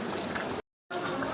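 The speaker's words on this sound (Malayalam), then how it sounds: "കുക്കറിലേക്ക് എണ്ണ ഒഴിച്ച് അതിനകത്തേക്ക് ഇഞ്ചി മൂപ്പിച്ചെടുക്കുക" Oil pours into a pressure cooker while making beef curry, a steady close liquid hiss and bubble interrupted by a brief total dropout before resuming.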